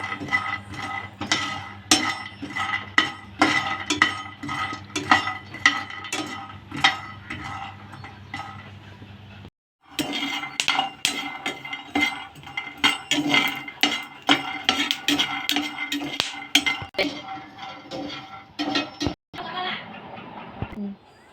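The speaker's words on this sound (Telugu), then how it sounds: "ఇవి లో ఫ్లేమ్లో పెట్టుకొని లైట్గా బ్రౌన్ కలర్ వచ్చే వరకు కూడా వేయించుకోవాలి" Peanuts dry-roasting over a low flame in a pan for peanut chutney, with a spoon stirring and scraping in a steady run of metallic clinks and rattles, close and fairly loud, with a brief pause midway.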